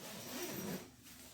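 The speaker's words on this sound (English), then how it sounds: "Zipper." A sleeping bag zipper rated to 0°F being pulled, a continuous close rasping buzz that rises slightly midway, then tapers to a softer drag.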